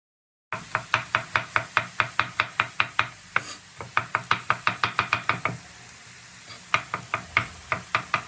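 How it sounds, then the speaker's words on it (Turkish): Two garlic cloves are crushed with the back of a knife and then finely chopped on a board: quick, close, rhythmic knife strikes in bursts, broken by short pauses, with nothing else heard. "Şöyle bıçağın tersiyle vurup önce eziyorum daha sonra ince ince kıyıyorum"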